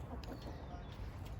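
Backyard chickens near their night coop give a few soft, faint clucks against a low, steady background hum.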